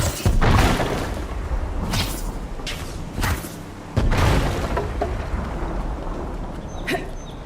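Explosions and heavy thuds from the game Avowed, several sharp booms with rumbling decay amid a busy, continuous mix of combat noise.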